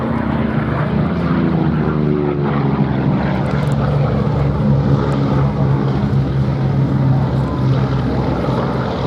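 A Vought Corsair with a 2,000-horsepower Pratt & Whitney Double Wasp engine and an enormous propeller drones past at an air show, a loud, steady propeller roar that swells slightly as it passes.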